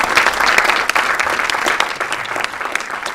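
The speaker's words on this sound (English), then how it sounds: "Please give them a round of applause." Dense audience applause at an evening film festival Q&A screening, a steady roar of many hands clapping close and loud throughout, with no talk over it.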